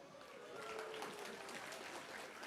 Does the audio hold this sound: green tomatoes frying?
no